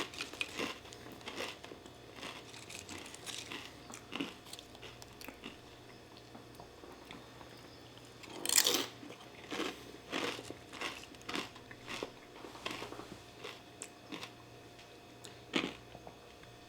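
Close crunching and chewing of Doritos in a nacho salad, a series of crisp bites and crackly chews at an irregular pace, fairly quiet, with no talk.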